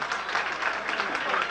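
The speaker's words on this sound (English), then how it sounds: "Let's have a nice round of applause for our bride and her father." Wedding guests applaud the bride and her father as they take the floor for their dance, a dense, even wash of clapping at moderate volume that holds steady throughout.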